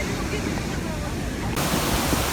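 Steady broadband roar of Iguaçu Falls heard from a walkway or bridge in the mist, a continuous wash of falling water that swells slightly louder partway through, with no pauses.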